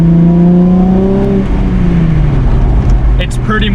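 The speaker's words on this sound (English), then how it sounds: "how it sounds if you're not too familiar with the pipes, mid-muffler, true dual catback system" A V6 Ford Mustang with a mid-muffler true dual catback exhaust, stock manifolds and catalytic converters rumbles close up, its drone rising then falling back, with a voice talking over it near the end.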